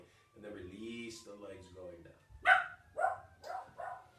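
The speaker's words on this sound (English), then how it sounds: "the dog is barking." A dog barks several times in quick succession in the second half, while an instructor leading a seated qigong practice for seniors speaks calmly over it.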